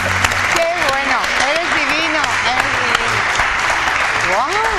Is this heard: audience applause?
yes